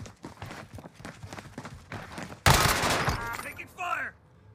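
Bursts of gunfire from a shooter video game, with a loud sustained volley partway through, heard amid clicks, game effects and players chatting over voice comms.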